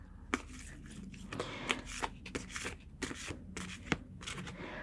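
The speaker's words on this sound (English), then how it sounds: "So we'll first shuffle them." Large oracle cards from the Soulful Woman deck are shuffled by hand in a soft, close series of papery slides and taps, irregular but steady, quiet and without talk.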